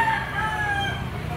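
A Boston Sweater yellow-legged gamecock crows close by, one clear sustained call filling the moment with no talk over it.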